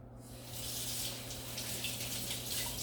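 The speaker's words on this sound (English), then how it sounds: "Before we get cooking, I am going to wash my hands." Warm water running steadily from a kitchen tap as hands are washed under it before cooking, a close continuous splashing hiss with no talk.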